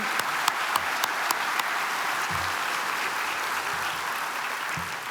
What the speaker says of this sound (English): Let's give them a round of applause for this recognition.